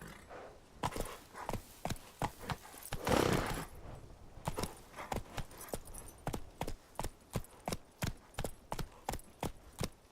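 Geralt's horse Roach gallops in The Witcher 3, with close, loud, rhythmic hoofbeats that speed into a steady fast gait after a brief rushing burst.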